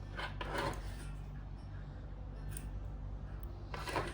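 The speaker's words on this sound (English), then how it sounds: "here I'm going to cut the yarn" Scissors snip crochet yarn in two brief, close cuts at the start and end, over a steady low background hum.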